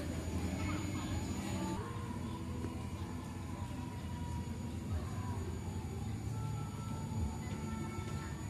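Continuous rumbling of a train ride at a deer park in motion, steady and fairly loud, with low mechanical drone and occasional faint squeals throughout.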